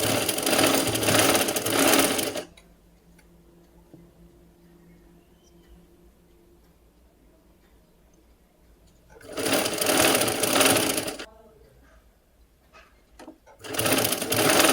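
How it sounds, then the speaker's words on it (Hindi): Sewing machine stitching a puffed sleeve, loud bursts of rapid stitching in three runs with quiet pauses between them. "इधर थोड़ा नीचे डबल करके और फिर आप लगा दीजिए सिलाई"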